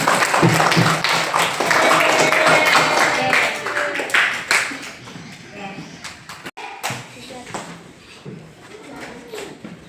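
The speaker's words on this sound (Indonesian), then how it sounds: "Tepuk tangan dulu semua." A class of students claps their hands together in a classroom, a dense burst of applause that fades over several seconds, with voices heard alongside.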